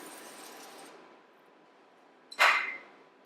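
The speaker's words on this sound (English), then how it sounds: "I'm really into this avocado spray oil right now, so I'm just gonna give it a good spray down" A single short hiss of avocado oil spray from a can, close by, following quieter background noise.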